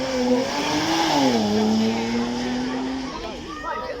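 A Porsche Cayman S with a 3.4 litre flat six runs past on a supercar weekend demonstration run, its engine note rising and then falling in a steady drone at moderate distance under continuous commentary.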